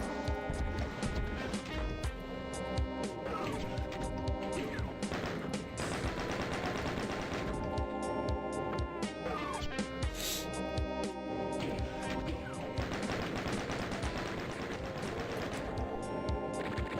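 Pistol shots ring out in Final DOOM: The Plutonia Experiment, repeated loud cracks within a dense, continuous blend of in-game combat sounds that lasts throughout.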